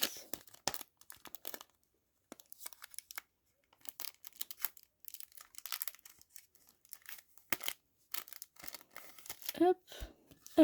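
Scissors snip and a foil Pokémon booster pack from the Évolution Prismatique set crinkles and tears open, soft close crackling in scattered bursts with brief quiet gaps.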